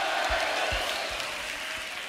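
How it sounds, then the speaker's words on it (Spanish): An audience at a Saratoga heavy metal concert applauding: a dense, even wash of many hands clapping at moderate loudness, heard from within the crowd throughout the short stretch, with no voices on top. "un fuerte aplauso para vosotros"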